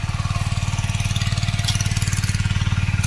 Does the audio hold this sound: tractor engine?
yes